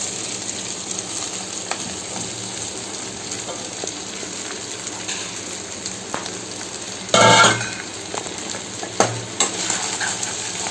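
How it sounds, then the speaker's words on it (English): Potatoes and sabudana frying in a pan make a steady, even sizzle throughout, with a brief louder scrape or stir burst partway through and a couple of smaller knocks after. "See, now the potatoes are fried well."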